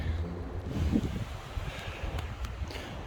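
Gusty wind buffets the microphone in low, rumbling bursts, a rough outdoor whoosh with no voices.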